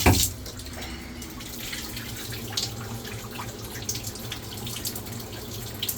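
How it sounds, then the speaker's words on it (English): Water from an RV shower, hot and cold combined, runs in a steady hiss with light splashing; a brief louder burst comes at the start, then the flow continues evenly and alone. "let's see if the shower works, because the water pressure actually looks pretty decent with the hot and cold combined"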